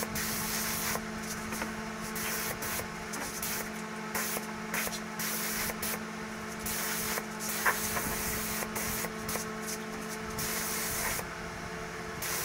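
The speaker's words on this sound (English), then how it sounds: "Now I'm going to spray a few coats of automotive lacquer out of my paint gun on them." A steady, continuous hiss of a paint spray gun applying automotive lacquer to wooden bowls, close and loud, with brief pauses between passes.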